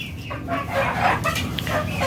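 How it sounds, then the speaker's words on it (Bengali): A rooster among rooftop-kept chickens clucks in short, uneven bursts, close and moderately loud over a busy background. "এই যে মোরগ একটা"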